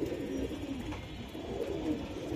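An army pigeon at a pigeon market gives soft, low cooing over a faint, steady background hum, fairly quiet and without speech.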